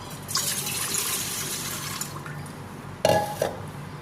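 Water splashes and trickles into a container for burger bun dough, a brief gush near the start and another short pour toward the end, with faint clinks.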